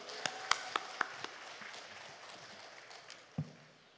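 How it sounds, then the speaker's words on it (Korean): A few sharp, separate claps from a church congregation at a fasting prayer house service, soon thinning into faint, scattered applause in a quiet hall. "할렐루야로 하나님께 영광의 박수 올려드립니다."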